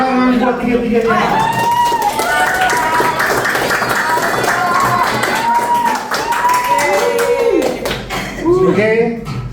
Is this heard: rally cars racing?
no